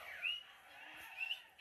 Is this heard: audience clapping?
no